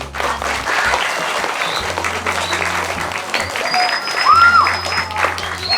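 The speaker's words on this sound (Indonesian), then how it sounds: "Tepuk tangan untuk mereka semuanya." An audience at a santri speech competition celebrating Indonesia's 75th Independence Day applauds the contest participants, a loud, dense and steady clapping from a crowd lasting the whole clip, with a brief whistle-like tone midway.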